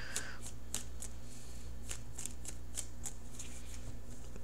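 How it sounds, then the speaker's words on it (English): Tarot cards being shuffled by hand, a series of crisp riffling snaps about every quarter second over a steady low hum, close and fairly quiet, with no talk. "So I am shuffling for the outcome card."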